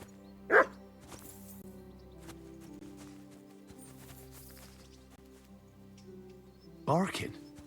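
A dog barking in the medieval video game Kingdom Come: Deliverance II, one sharp bark near the start and another near the end, over a quiet ambient music bed.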